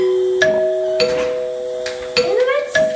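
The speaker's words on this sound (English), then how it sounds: "Is that the doorbell?" A chime rings out clearly several times in clean, sustained tones, close by with no voices.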